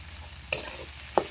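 Okra cooking in a pan, with two brief scraping stirs over a low, steady frying hiss, close by and fairly quiet.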